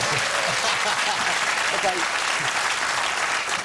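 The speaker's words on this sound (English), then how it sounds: "Can I get a round of applause for that?" Studio audience on a Friday night chat show breaks into loud, dense, sustained applause that fills the room without pause, with cheering mixed in.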